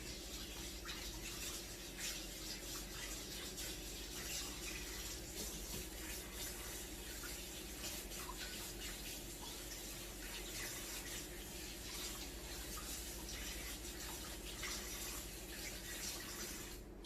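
Water runs steadily from a kitchen tap as lamb shanks or other meal ingredients are rinsed, a continuous broadband splashing rush that holds at an even level for the whole stretch with no talk over it.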